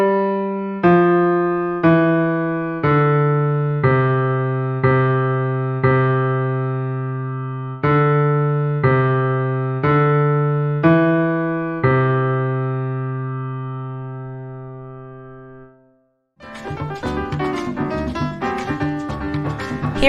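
A slow piano piece plays one clear note at a time, each note ringing and fading, before a brief pause and a burst of denser, noisier sound at the end.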